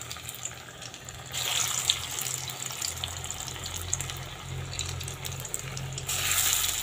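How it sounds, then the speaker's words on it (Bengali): Fritter-shaped batter sizzles in plenty of hot oil, a steady close hiss that swells in louder stretches, with a low hum underneath and no talking. "এখন আমি এই যে বড়ার আকারে তেলের মধ্যে দিয়ে দেব।"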